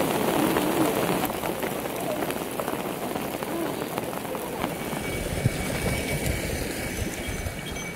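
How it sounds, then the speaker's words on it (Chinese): Hail pours down on a high Sichuan plateau near Lenggacuo lake at about 4,500 metres, a loud, dense patter of countless pellets striking surfaces close by, with some faint voices in the background. "下冰雹了。"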